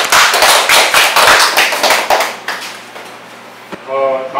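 Audience applause welcoming a lecturer at a Korean transition-town school talk on climate adaptation, a burst of steady hand-clapping that fades out after about two seconds, followed by a faint voice.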